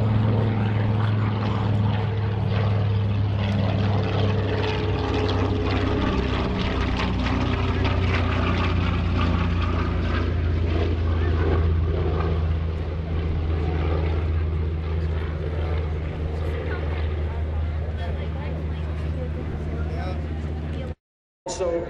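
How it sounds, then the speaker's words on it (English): A propeller warbird such as a B-25 Mitchell or TBM Avenger roars past at a lakeside airshow, a loud sustained drone with shifting engine tones that fills the whole stretch before cutting off briefly near the end. "Looks like Tim Pusateri is set up for his photo pass."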